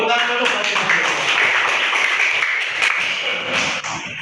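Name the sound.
class of children clapping hands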